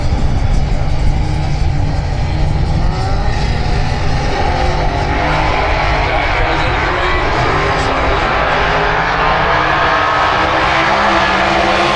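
Drag racing cars launching at Santa Pod raceway, producing a loud, sustained roar that swells into a rising, sweeping scream as the cars accelerate away, with a faint commentator voice underneath.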